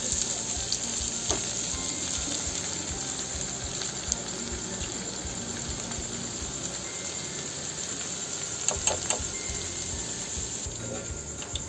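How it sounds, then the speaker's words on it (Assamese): Steady crackling sizzle of sita bhog sweets frying in hot oil, continuous and fairly close, with a few sharper pops near the end. "তেলত ভাজি ল'ম"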